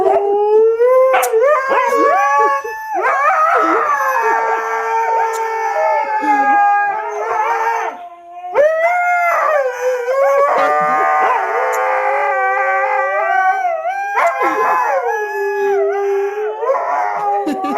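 A dog howls loudly and continuously in long, wavering drawn-out cries, close by, with a brief pause midway and no talking.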